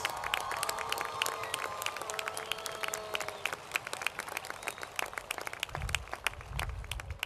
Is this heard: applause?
yes